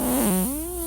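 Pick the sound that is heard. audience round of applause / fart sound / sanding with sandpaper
fart sound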